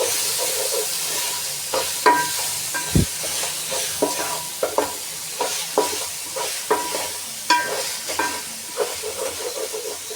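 Masala with ginger paste sizzles in a pan for bagara rice while a spoon stirs it, producing a steady hiss under regular scraping clicks roughly every half second to second, close and fairly loud.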